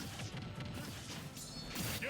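A Final Smash attack landing in the video game Super Smash Bros, heard as a few fairly quiet crashing, whooshing impacts amid busy game sounds, with a sharper hit near the end.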